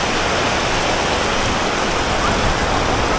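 Heavy rain pours down steadily in Nha Trang, a dense, continuous broadband hiss of downpour with no pauses or voices.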